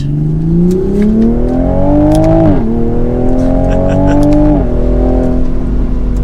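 A 2022 Toyota GR Supra 3.0 engine revs up steadily in rising pitch, drops briefly at a gear change, then climbs again, loud and close throughout.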